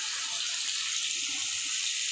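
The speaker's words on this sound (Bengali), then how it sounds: "জল নিলাম, জলটা পরে দেবো" Steady hiss of water running from a kitchen tap while fish curry is being cooked, continuous and fairly loud, with no talking.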